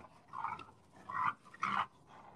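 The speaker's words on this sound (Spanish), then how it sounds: "La que gruñe es la Nat" A Cane Corso growls and rumbles in three short close bursts, each grumble rising and falling, with brief quiet gaps between them.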